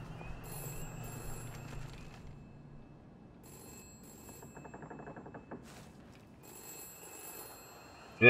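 A telephone rings in the game We Happy Few, repeated ring bursts at moderate level over a low ambient background, with a sharp louder sound at the very end.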